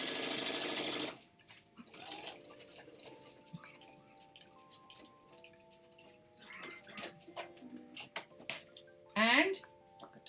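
A sewing machine stitches a pocket onto a bag, giving a loud burst of motor whir at the start, then quieter sporadic clicks and handling noises with faint talk in the background.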